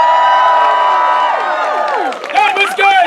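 A live crowd at a Shakespeare performance event erupts in loud, close cheering and whooping, with shouts and some clapping rising over a voice that trails off at the start.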